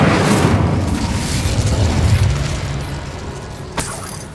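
A fire spell explodes in the video game Hogwarts Legacy with a loud, rumbling burst that rolls on and slowly fades, followed by a small late pop.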